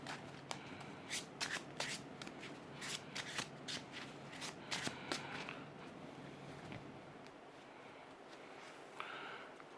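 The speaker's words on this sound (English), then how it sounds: "The deck is randomized, let's give it a shuffle." A deck of cards is shuffled up close, with rapid riffling bursts and soft snaps, then it quiets to faint handling noise.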